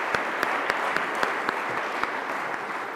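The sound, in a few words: applause for a conference speaker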